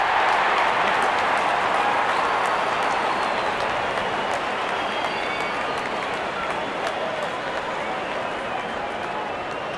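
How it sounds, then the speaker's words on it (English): A cricket stadium crowd roars steadily as the openers walk out, a broad, continuous wash of cheering and applause that fades slightly over time. "Openers walking in and the crowd cheering in anticipation"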